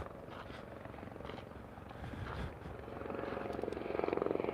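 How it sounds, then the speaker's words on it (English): A KGO news helicopter flies overhead, its rotor thumping as a steady distant drone that grows slightly louder and nearer toward the end, with no talking. "It's that same KGO chopper."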